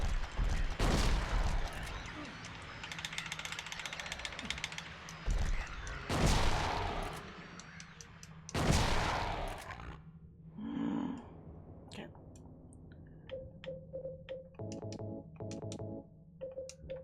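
Shotgun blasts aimed at Pyramid Head in Silent Hill 2, several loud, sharp booms spaced a few seconds apart amid game noise and rumbling ambience, with later clanking and tonal game effects.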